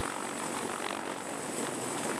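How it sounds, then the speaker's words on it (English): A CH-53E Super Stallion heavy-lift military helicopter gives a steady, broad rotor and engine roar that fills the clip evenly, with no talking. "one helicopter that stands out among the rest is the CH-53E Super Stallion"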